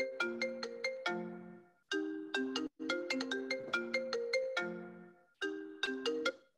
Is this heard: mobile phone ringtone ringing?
yes